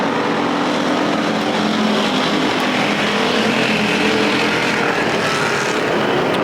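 Factory stock race cars at Perris Auto Speedway roar around the dirt oval in a steady, dense wash of engine noise, with no quiet gaps.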